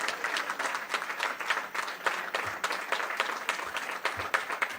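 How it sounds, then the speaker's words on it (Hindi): An audience at a Rajasthan BJP political event bursts into sustained, steady applause to welcome state president Madan Rathore, a dense crowd of clapping hands that continues evenly throughout. "एक बार जोरदार तालियों के साथ राठौड़ जी का स्वागत और अभिनंदन करिए।"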